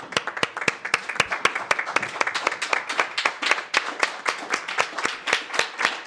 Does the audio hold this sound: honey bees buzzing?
no